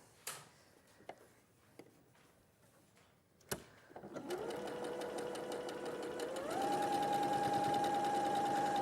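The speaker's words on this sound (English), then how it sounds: "So you're going to sew one to the top of there and one to the side." A sewing machine stitching a quarter inch seam for a quilt-as-you-go block, starting after a few soft clicks and handling noises, then running steadily with a rising motor whine that settles into a loud, even hum.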